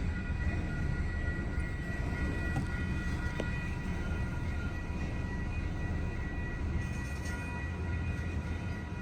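Union Pacific 1996, a Southern Pacific heritage diesel locomotive, passing with a train near Taylor Lake Road, heard as a steady, loud rumble throughout with faint tonal horn-like lines, no talking.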